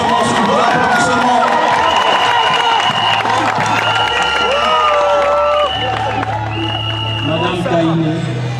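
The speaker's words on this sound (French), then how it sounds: "Sous vos applaudissements." Wedding guests at a French civil ceremony break into loud, continuous cheering and applause, with shouts and whoops over dense clapping throughout, and voices calling out within the crowd.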